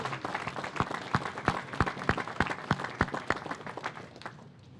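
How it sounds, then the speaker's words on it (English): An audience at a public safety press conference gives a short burst of scattered, fairly sparse clapping that fades out within a few seconds. "they deserve a round of applause for putting this case together"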